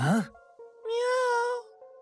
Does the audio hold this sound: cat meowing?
yes